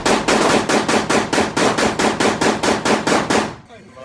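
A Bear Creek Arsenal BC 9 9mm AR pistol fires about fourteen rapid, evenly spaced, loud shots at an indoor range, then falls silent with a faint ringing tail.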